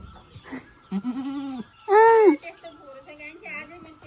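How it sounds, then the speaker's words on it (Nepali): A billy goat bleats close by in one loud, wavering cry, while children and adults chatter around it. "तिम्रो बोको रहेछ यहाँ ल्याउ"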